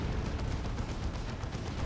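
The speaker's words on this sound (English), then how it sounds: "There's a demolisher cannon hit." A demolisher cannon hit from a Leman Russ tank in Dawn of War 2: Retribution gives a dense, rumbling, continuous blast of low roaring noise with no speech.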